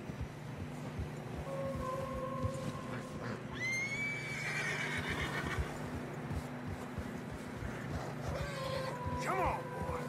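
A horse whinnies loudly in a long, shaky neigh midway in Red Dead Redemption 2, with a second shorter whinny near the end, over a constant rumbling wind-like background and a steady hum on a snowy trail.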